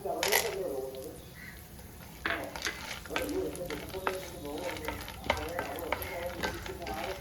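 Roasted peanuts and other nuts sizzle and crackle in hot ghee while a spoon stirs and scrapes the pan, with a voice talking over the cooking.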